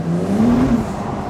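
A Porsche Turbo supercar pulls away hard on a road, its engine note climbing loud and close for a brief moment before easing off.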